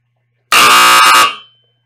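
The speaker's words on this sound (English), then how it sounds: "And finally, we have the buzzer." A loud, harsh electronic buzzer on a UL 508A industrial control panel blares for about a second, then cuts off and fades quickly into silence.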